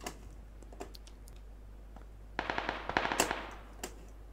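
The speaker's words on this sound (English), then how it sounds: "There's a person somewhere shooting" Gunfire in the video game PUBG: scattered single shots, then a rapid burst of sharp automatic cracks, fairly close and clear, with sparse shots trailing off.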